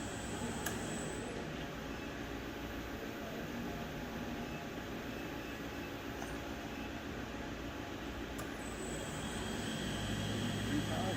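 A TRAK FHM7 CNC bed mill spindle spins at 1,000 RPM, a steady broadband machine whir with low hum that holds unchanged for about eleven seconds, close and continuous with no speech.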